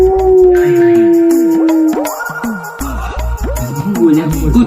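A pet dog howls in drawn-out, wavering cries close by, rising and falling several times, with people talking over and between the howls.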